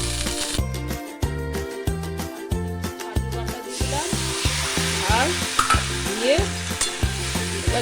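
Spice masala fries in a pan with steady sizzling while it is stirred. A loud, rhythmic, tonal pattern runs underneath throughout, and the frying grows more hissy halfway through.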